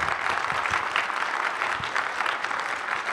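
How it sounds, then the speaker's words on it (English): A church audience stands and applauds for their pastor, a dense, steady burst of clapping that fills the space with little else audible. "let's stand to our feet and give your pastor a round of applause."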